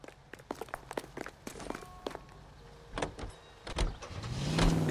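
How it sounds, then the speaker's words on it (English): Car sounds in the video game L.A. Noire: footsteps and door or window clicks, then a car engine starting to rise and rumble at the end, fairly close. "Get in and drive."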